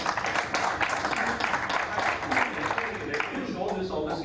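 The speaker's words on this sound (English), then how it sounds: "Oh great, that's a clap for that." An audience at a talk on global terrorism claps during a speech, a moderate spread of applause mixed with a murmuring crowd and voices talking underneath throughout.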